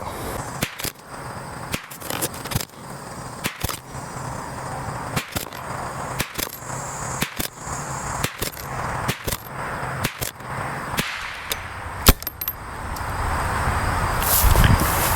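.22LR rifle fired as a ten-shot group at a range, sharp, evenly spaced cracks about a second apart, each a crisp bang over light outdoor background, with no talking.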